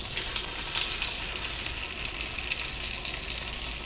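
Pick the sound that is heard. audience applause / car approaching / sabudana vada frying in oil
sabudana vada frying in oil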